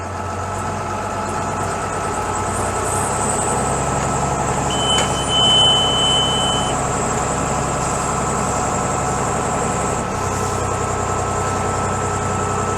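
A YTO NLX 1404 tractor idles steadily with a hydraulic sunflower seeder running, a continuous loud engine drone with a brief tonal whine midway and no talk.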